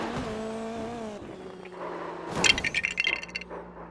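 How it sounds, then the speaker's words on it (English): Indy NXT race car crash on an oval in iRacing: a high engine whine drops away, then a loud impact with shattering crunches and rapid metallic clatter, engine droning underneath. "This one was a huge crash."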